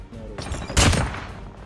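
An MX9 submachine gun fired from the hip in a Call of Duty game, a short loud burst of rapid shots peaking sharply, then fading away.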